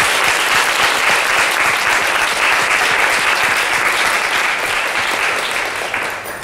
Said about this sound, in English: So can I have a round of applause for them?